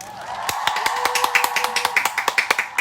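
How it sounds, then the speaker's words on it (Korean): A steady run of hand claps, about twenty evenly paced, close and crisp, played over a sustained background tone. "자, 박수 치세요"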